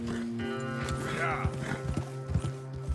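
Horse hooves clip-clop at a walking pace in Red Dead Redemption, fairly faint, with a brief whinny and a steady hum in the background.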